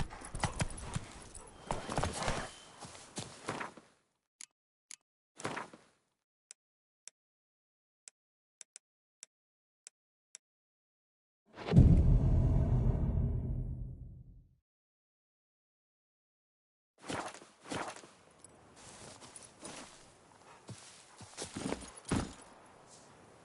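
Roach the horse in The Witcher 3 clip-clops along in short bursts of hoof steps, with sparse single hoof taps between them and a loud rushing swell in the middle before the hoofbeats resume.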